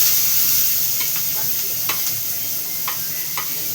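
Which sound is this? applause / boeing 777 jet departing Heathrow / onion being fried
onion being fried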